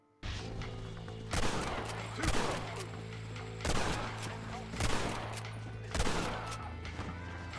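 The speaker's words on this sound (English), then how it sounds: "I got to my destination and scouted it before firing into them." Repeated gunfire in the Western video game Red Dead Redemption, with about six loud booming volleys at irregular intervals, each trailing off into echoing decay over a low steady hum.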